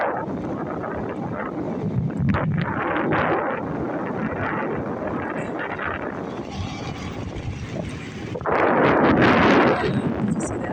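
Strong east wind in stormy Oregon weather buffets the microphone with a steady roaring rush, surging louder in a heavy gust near the end, with no voices over it.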